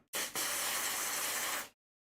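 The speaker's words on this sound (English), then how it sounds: "Bit of freeze spray, and then let's turn it on and see what gets hot." Freeze spray is blasted onto an iPhone logic board during repair: a loud, close, steady hiss lasting about a second and a half, broken by one brief stutter near the start, then abrupt silence.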